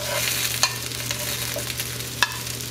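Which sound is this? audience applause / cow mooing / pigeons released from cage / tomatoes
tomatoes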